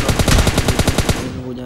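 Automatic weapon fire in a video game, a rapid evenly spaced burst of about eleven loud close shots that stops abruptly and leaves a short fading tail.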